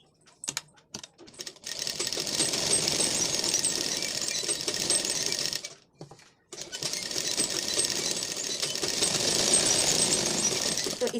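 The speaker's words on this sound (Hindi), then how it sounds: "गला की सिलाई कर लेते हैं।" A sewing machine stitches the neckline of a lined blouse in two long, rapid runs of clattering needle strokes, broken by a brief pause and a few short starting bursts, close and steady.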